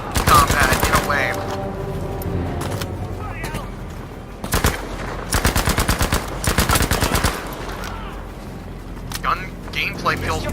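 Battlefield V combat gunfire: loud bursts of automatic machine-gun fire and rapid rifle shots in clustered volleys, with someone talking over parts of the shooting.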